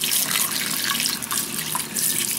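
Hot tap water running over an Amazfit Bip smartwatch during rinsing, a continuous loud splashing hiss of faucet flow for the whole stretch, with no voices.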